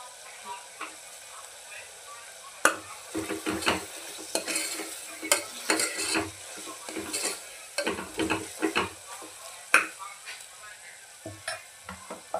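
Tomato and spice masala for mixed dal being sautéed in oil in a pan, soft sizzling under repeated sharp scrapes and clinks of a spoon stirring against the pot, close and irregular.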